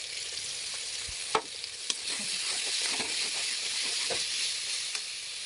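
Onions and whole spices sizzle steadily in a frying pan, a continuous close hiss with a few sharp crackles and pops, with no voices over it.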